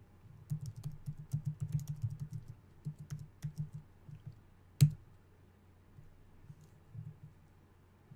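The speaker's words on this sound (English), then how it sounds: "Looks like I'm typing." Typing on a computer keyboard, close and quiet, in bursts of rapid clicking key presses separated by pauses, with one sharper louder click partway through.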